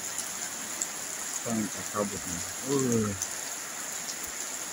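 Steady rain hisses through the misty mountains of Enrekang during the rainy season, a constant wash of falling water with a high whine, while someone speaks briefly midway.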